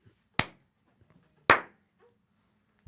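Two loud, sharp hand claps about a second apart, close to the mic in an otherwise quiet room, followed by a faint third clap at the end.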